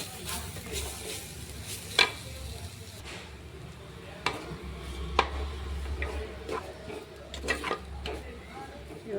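Drumstick leaves cooking in a pan for an egg fry: a soft, continuous sizzle and bubbling with scattered spatula scrapes and taps against the pan, close by, while a person talks at times.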